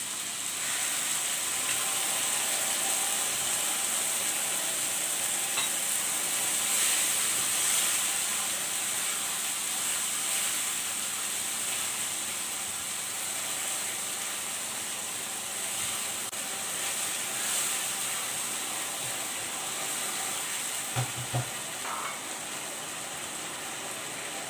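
Boiled urad dal goes into a pan of frying masala for dhaba-style maash ki dal, giving a steady, even sizzling hiss that runs unbroken throughout, with one faint clink near the end.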